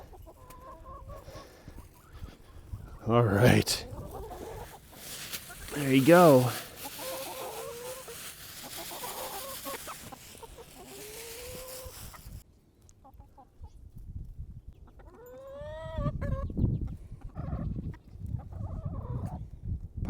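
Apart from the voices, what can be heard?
chickens clucking at feeding time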